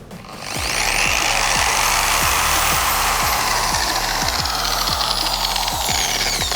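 A polishing machine's motor starts up and quickly climbs to a loud, steady spinning whine. A rough rotating grind sits underneath, close by and uninterrupted.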